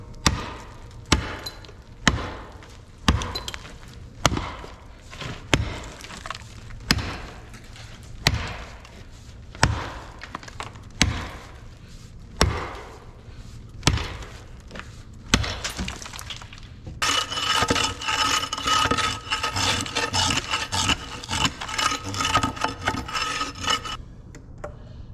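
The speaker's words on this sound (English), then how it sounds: "I'm going to grab a hammer, a chisel, and an impact" Sharp metallic taps repeat about once a second, like a hammer striking a chisel on hard material, followed by a longer harsh grinding burst.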